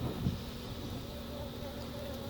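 Bees buzz in a continuous, faint drone close to the microphone while a beekeeper searches a hive frame for the queen, with light wind and outdoor background noise underneath.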